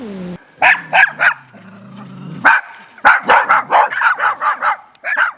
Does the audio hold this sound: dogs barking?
yes